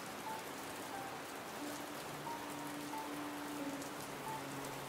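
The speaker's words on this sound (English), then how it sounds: "It's raining outside." Rain falls outside in a dense, constant patter on surfaces, an unbroken wash of drops heard alone with no voices.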